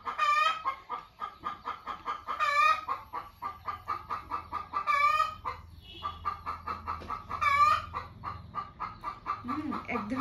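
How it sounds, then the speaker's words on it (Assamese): Backyard chickens clucking repeatedly near the microphone, with a rooster's crowing bursts recurring every couple of seconds over a low hum; a voice speaks faintly beneath. "মুৰ্গী আমাৰ এনেকৈ কান্দিয়ে থাকে"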